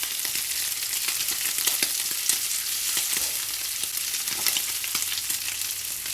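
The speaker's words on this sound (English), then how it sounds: "Look at that sizzle." Wagyu beef bacon frying in a pan, steady close crackling sizzle with dense popping fat spatter throughout, loud and continuous with no talking.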